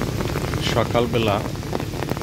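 Light drizzling rain falls on a Bangladeshi morning, a soft, steady patter that runs under someone talking throughout.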